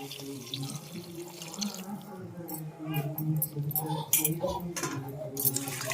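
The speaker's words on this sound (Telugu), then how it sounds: "మసాలా వాటర్ పోసేసుకుందాం." Masala water poured into a pan of chicken curry, a close splash and trickle with some clinks of utensils, followed by quieter bubbling.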